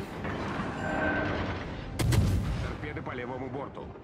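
Heavy naval cannon fire from a battleship's gun turrets in the game World of Warships Legends, with a loud booming salvo at the midpoint over a rumbling battle backdrop and a voice talking.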